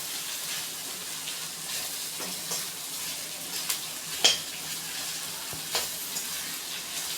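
Soya fried rice ingredients with salt and grated carrot stir-fried in a pan, a steady soft sizzle with a few light scraping and stirring knocks, close and fairly quiet, with no talking.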